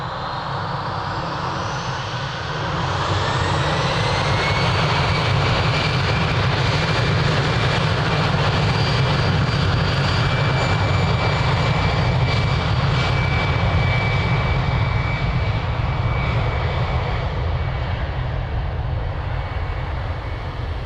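An Iberia airliner takes off from Lisbon Airport runway 02, its jet engines building from a rumble into a loud sustained roar with a rising whine that carries steadily past, with no voices.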